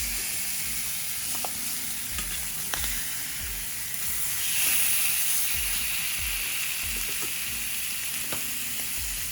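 Salmon fillet sizzling and frying steadily in a hot pan, a continuous close hiss with a few soft clicks and taps of a utensil, no talking.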